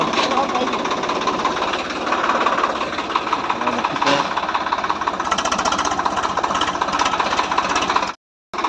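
A loud tractor engine runs steadily nearby with a rapid, knocking diesel chug, then cuts out briefly near the end before resuming.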